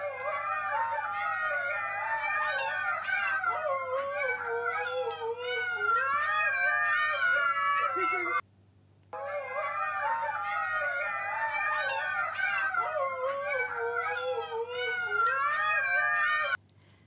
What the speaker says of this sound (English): you're about to see one other type of vocalization that just might have heritable factors, which is baby huskies